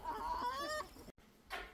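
Backyard chickens cluck close by in a garden setting, a quick run of throaty clucks and a short squawk, then a brief pause and a softer rustle, fairly faint overall.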